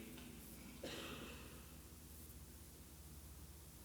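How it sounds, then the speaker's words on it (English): Steady broadband hiss of air blowers fills a hall, constant and even throughout, with a faint rustle partway through and no speech. "Hear the blowers, right?"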